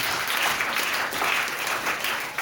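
A church congregation breaks into brief applause that lasts about two seconds, with dense clapping from many hands and no voices.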